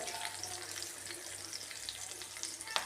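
Food fries in very hot oil in a steel frying pan while sambar is being made, a steady close crackling sizzle running without pause and a sharp pop near the end.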